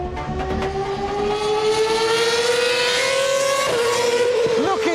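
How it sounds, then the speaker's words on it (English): A Formula 1 race car engine screams at high revs, its pitch climbing steadily as it accelerates, then dropping briefly at a gear change before rising again, loud and close throughout. "Looking at and listening to an F1 car"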